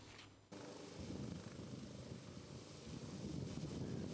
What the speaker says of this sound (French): L'hélicoptère qui s'élève dans le ciel de Bongouanou